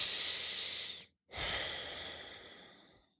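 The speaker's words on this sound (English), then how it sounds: "close your eyes, take a deep breath." A deep breath drawn in and then slowly let out, close and alone in a quiet room during a classroom mindfulness exercise, with a brief pause between the inhale and the long fading exhale.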